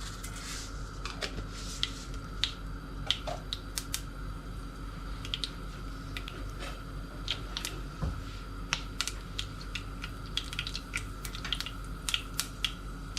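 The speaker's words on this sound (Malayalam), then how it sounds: "കടുക് പൊട്ടി വരുന്നുണ്ട്." Mustard seeds crackle in hot oil for a mixed beetroot pickle, scattered sharp pops and snaps at an irregular pace over a low steady hum, fairly quiet, with no talk.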